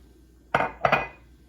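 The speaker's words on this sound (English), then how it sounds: "And mix that all together." Sugar, compacted brown sugar and oil being mixed in a bowl for pumpkin chocolate chip cookies, heard as two sharp clinks of utensil against bowl in quick succession, close and fairly loud.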